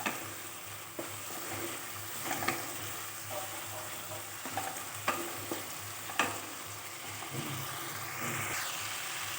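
Spices with turmeric and salt are stir-fried in a pan, giving a low, continuous sizzle with scattered spoon scrapes and knocks at irregular intervals, fairly faint and without talk.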